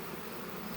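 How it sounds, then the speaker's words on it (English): A large swarm of bees packed inside a hive in Northern Ontario in mid-August makes a steady, faint buzzing hum that continues without a break. "You look at all those bees in there. There's tons and tons of bees."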